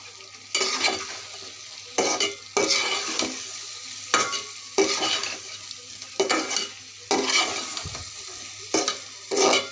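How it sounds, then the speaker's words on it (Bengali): Taro pieces being sautéed in a pan, with repeated scraping stir strokes over a soft sizzle in short bursts separated by brief pauses, close and moderately loud. "কচুটা ভালো করে কষিয়ে নিব।"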